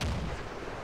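A single heavy cannon blast from the game Call of Duty: Ghosts, a sharp loud boom with a brief rumbling decay.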